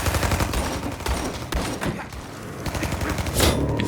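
Video game gunfire, rapid dense bursts of shots and thuds filling the clip continuously, loud and close, mixed with game action sounds.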